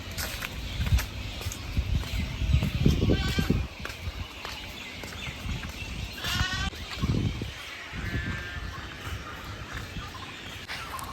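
Animals bleat repeatedly inside a deer enclosure at a garden where goats are also kept. Several scattered calls rise over a steady, noisy outdoor background with some rustling and faint distant voices.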